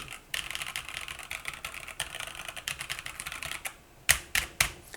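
Typing on a custom-built Feker IK75 Pro mechanical keyboard fitted with Leobog switches: a steady run of close, crisp keystrokes, ending in a few louder, sharper clacks as if from heavier presses or the spacebar.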